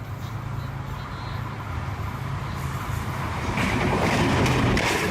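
A fast express train rushes past at speed, a broad steady rumble of rail noise that swells louder toward the end, with faint rhythmic clatter and no speech.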